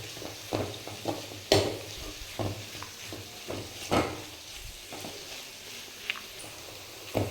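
Onions fry in a pan with a low sizzle while a spoon stirs and mixes them, giving repeated soft scrapes and taps at an irregular rhythm, close by.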